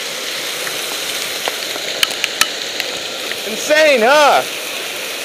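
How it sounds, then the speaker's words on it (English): Small hail pelts a camera outdoors in Orange County, making scattered sharp taps over a steady icy hiss, with a person briefly speaking near the end. "So it's currently hailing golf ball, well not golf ball, but pretty small sized ice right now."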